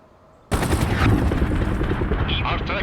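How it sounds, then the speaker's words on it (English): A sudden heavy barrage of artillery fire erupts in a modern war strategy video game, a loud burst that rolls into continuous rumbling impacts and crackling blasts, with a voice briefly heard beneath. "Incoming artillery."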